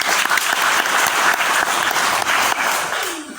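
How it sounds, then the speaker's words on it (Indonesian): A church congregation bursts into sustained applause during a sermon about miracles, a loud, dense crowd of clapping hands that holds steady for several seconds before tapering off at the end. "Tepuk tangan bagi kita begitu."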